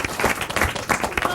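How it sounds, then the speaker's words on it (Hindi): An audience applauds a young bravery award winner, with steady, close clapping and voices talking over it. "भीम के लिए तालियां एक बार"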